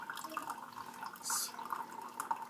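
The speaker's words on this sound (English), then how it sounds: "you can really see the advantage of having this slow pour tea kettle because you're able to" Water pouring in a thin, steady stream from a slow pour tea kettle over coffee grounds, a quiet continuous trickle with soft dripping and a brief brighter splash midway.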